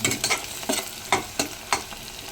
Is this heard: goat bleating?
no